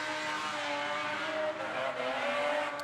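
A pro drift car at an IDC 2018 qualifying round roars through a corner, its engine revving loudly with tire squeal mixed in, steady and fairly close, with no voices.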